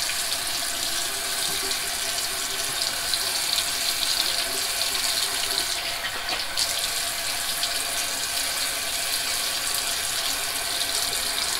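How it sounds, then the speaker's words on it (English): Water runs steadily and loudly from a tap while a head is washed with a big bar of Bay Rum soap, a constant rushing stream with no voices. "I'm going to wash my head with my big bar of soap here."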